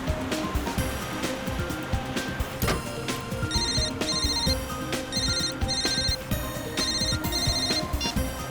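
A phone ringtone chirps in repeated bursts over a busy background of music and rumbling noise, ringing steadily throughout.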